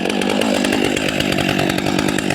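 A chainsaw idles loudly and steadily up close while warming up after its first pull, before cutting big oak logs, a constant buzzing engine drone with no talking.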